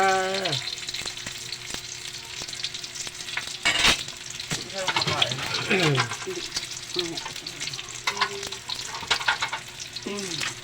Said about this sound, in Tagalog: Ipiprito na. Tapos na. Piprito na guys.